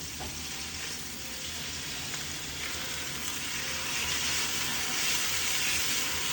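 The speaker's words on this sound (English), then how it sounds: "And now I'm gonna flip the meat" Steak sizzling steadily in a hot pan right after being flipped, a dense, continuous frying hiss that grows slightly louder toward the end, with no voices.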